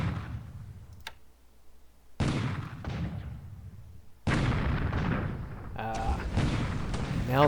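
Artillery fire from a 75mm battery in the War in the Pacific strategy game, heard as a few heavy, broadband booming bursts with gaps of quieter background between them, fairly loud and close.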